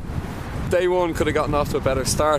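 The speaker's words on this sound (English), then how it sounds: "So yeah, it's really windy." Heavy wind buffets the microphone with a low rumbling roar throughout, while someone talks over it outdoors on a cycling trip.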